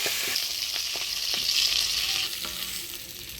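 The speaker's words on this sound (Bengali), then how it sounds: "মাছের মুড়াটা মটর শাকে দিব, সেই জন্য মুড়াটা একটু কড়া করে ভেজে নিচ্ছি।" Fish head frying crisp in hot oil, a steady close sizzle with a few soft stirring clicks and no talking.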